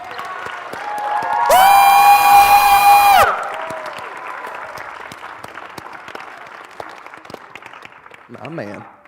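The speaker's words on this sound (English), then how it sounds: "let's get an awesome round of applause" Applause and cheering from the audience after a school drama club's production of Twelfth Night: a loud, shrill sustained whoop rings out early over scattered clapping that continues, with voices calling out toward the end.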